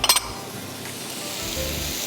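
Chopped onion, green onion and boiled potatoes get mixed in a bowl for batata vada: a few sharp clinks of a utensil against the bowl, then a soft, steady scraping rustle, close and fairly quiet.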